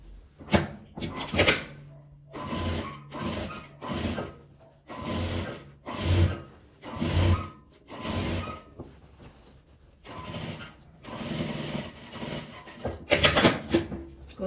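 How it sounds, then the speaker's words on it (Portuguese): A sewing machine stitching fabric scraps, short mechanical whirring runs starting and stopping repeatedly with brief clicks in between, close and fairly quiet. "Vou costurar aqui do outro lado também."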